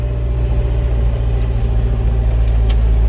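Datsun 620 truck on slicks with manual steering and a tire aired down, its engine a loud, steady low rumble heard up close for the whole stretch.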